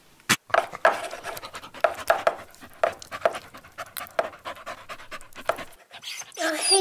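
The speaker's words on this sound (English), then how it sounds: "Hey, Puppy Daffy, are you hungry as well" A puppy pants rapidly and rhythmically close by, quick sharp breaths repeating steadily for several seconds, with a brief louder rustle at the end.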